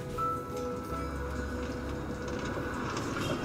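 A New York subway train on the Brooklyn Brown Express line, a steady rolling rumble with low mechanical hum and faint clatter throughout, heard from inside the car at moderate level with no talk.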